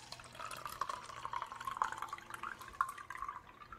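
Water drains off a washed onion into a kitchen sink, heard as faint, close trickling and dripping with small irregular splashes throughout and no talk.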